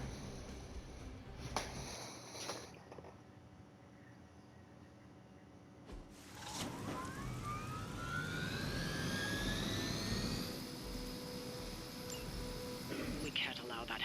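In the Marvel's Midnight Suns video game, a helicopter engine spools up into a rising, whining turbine roar that swells and holds steady, mixed with game effects.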